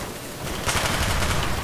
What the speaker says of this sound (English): MP5 hip fire, big ammo!